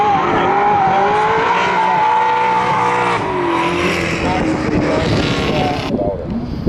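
Drift cars at a Driftcup competition round, engine howling loud and close with rising and falling revs, tires screeching through a slide, a commentator talking over it throughout.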